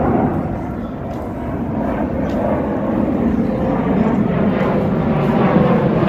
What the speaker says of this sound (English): That's why you can hear a lot of planes taking off and coming in.